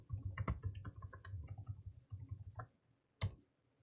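A password typed on a computer keyboard: a quiet, close patter of key clicks in quick bursts, followed by a pause and one sharper final keystroke.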